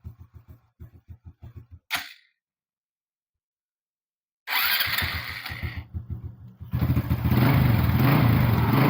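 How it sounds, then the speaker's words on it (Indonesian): A Honda Supra 125 motorcycle turns over on its electric starter with a rapid whirring crank, stops, and then catches and idles with a steady putter that swells louder as the revs rise. "Sekarang kita nyalakan ya. Kita starter aja, nggak usah kita terap ya."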